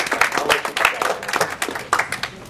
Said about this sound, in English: like a thunderous round of applause